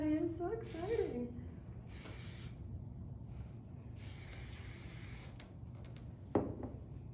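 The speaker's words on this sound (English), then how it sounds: "So now I would hit your first layer of hairspray" Hairspray hisses onto hair already gelled back into a competition ponytail, in three separate close bursts of about a second each, with quiet gaps between them and a faint voice in the background.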